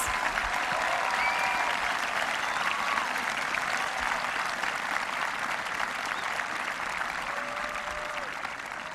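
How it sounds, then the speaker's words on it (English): Sustained applause from a large graduation audience fills the whole stretch at an even, dense level, tapering slightly toward the end, with faint crowd murmur and a few whistles underneath. "Please give a round of applause."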